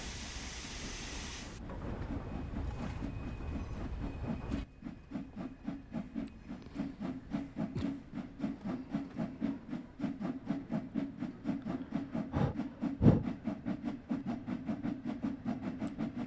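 A steam locomotive in the video game Train Sim World 2 chuffs in a steady, rapid rhythm after an opening hiss of steam, with a heavy, loud exhaust beat near the end.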